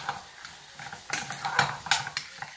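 A spoon gently stirs fennel and cream sauce in a pan over low heat, giving a faint sizzle with light scraping and a few soft clinks of utensil on metal, no talking.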